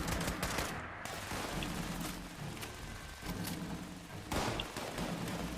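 Continuous game gunfire in the post-apocalyptic shooter Fallout 76, with dense overlapping rapid shots and heavy thumps at a steady loud level, and a vehicle explodes nearby; nobody speaks over it.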